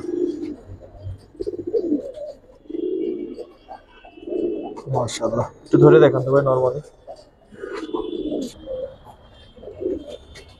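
Giribaz pigeons coo in low, throaty bursts in a loft among chatter, with close conversation running over most of the sound and a louder flurry of coos midway.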